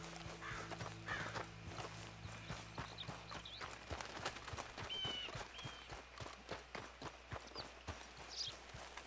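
Horse hooves in Red Dead Redemption 2 beat a steady, quiet clip-clop rhythm of a running horse, with a brief whinny mixed in and no talking.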